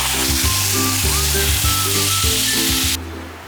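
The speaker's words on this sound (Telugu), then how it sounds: "సో ఈ అనియన్స్ ఫ్రై చేసి రెడీగా పెట్టేస్తున్నాను" Onions frying in a pan, a loud steady sizzle and hiss that runs unbroken for about three seconds, then drops away sharply to a quieter background.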